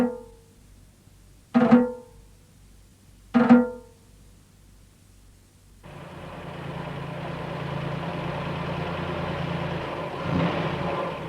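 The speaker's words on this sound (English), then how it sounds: "Farmer Bell's truck arrives" Farm truck arriving, heard after two sharp percussive hits: a mid-pitched engine fades in and runs steadily at moderate volume, growing slightly nearer toward the end.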